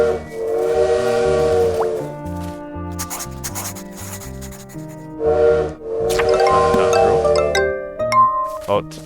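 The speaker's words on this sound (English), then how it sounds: "It really is the sound of the train." A steam train whistle in the Little Witch in the Woods video game blows two long, clear tonal blasts separated by a gap, set against soft game music and small plopping effects.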